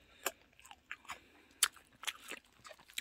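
Fried chicken and shrimp with a not-very-crispy coating are chewed up close, giving irregular crunchy bites and soft mastication sounds spaced through a quiet background, with no talking.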